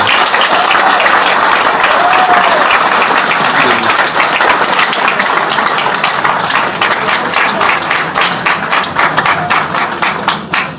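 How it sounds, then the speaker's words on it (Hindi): A seminar audience applauds in a dense, sustained burst of clapping. The applause is loud and crowded and thins slightly toward the end. "कम से कम एक जोरदार ताली तो बजती है"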